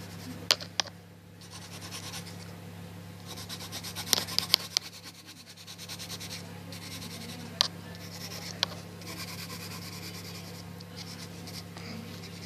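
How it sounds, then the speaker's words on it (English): A water pencil shades a helicopter drawing on paper, a soft continuous rubbing and scratching close by over a steady low hum, with a few sharper taps and scrapes. "I'm gonna shade with another pencil, water pencil."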